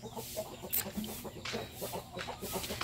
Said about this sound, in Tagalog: Ayan mga manok ko.